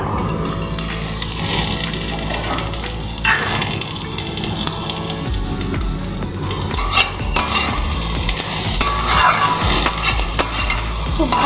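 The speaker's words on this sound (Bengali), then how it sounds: "ভালো করে আমি একটু ভাজা ভাজা করে নেব" Soaked chickpeas stir-frying with salt, turmeric and spices in a pan, a steady loud sizzle with scraping stirring strokes throughout, no talking.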